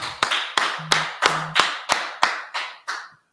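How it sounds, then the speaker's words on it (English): About ten sharp, separate claps ring out close by at an I.S.U.P.K. gathering in Fayetteville, North Carolina, spaced evenly like a few hands clapping in unison, each followed by a short room echo. "go ahead and clap it up, everybody"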